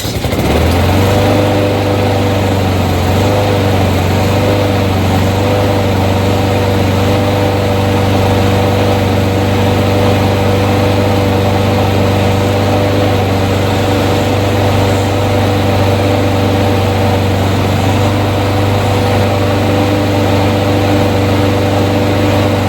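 A small petrol lawn mower engine runs steadily after repair work, a loud continuous drone with a constant low hum and buzzing overtones, holding an even idle throughout with no talk.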